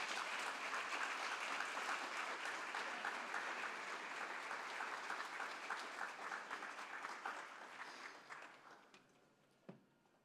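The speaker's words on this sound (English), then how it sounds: "a round of applause for the mayor" A room full of people applauds the mayor at the close of an evening talk event, a dense wash of clapping that holds steady, then thins and fades out with a last few scattered claps.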